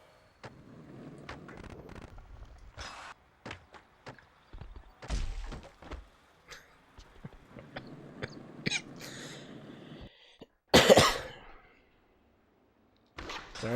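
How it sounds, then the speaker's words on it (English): A single sharp, loud cough bursts out near the mic late on, from a streamer playing Tony Hawk's American Wasteland, after a stretch of quieter background thumps and murmurs. "Sorry again for the cough."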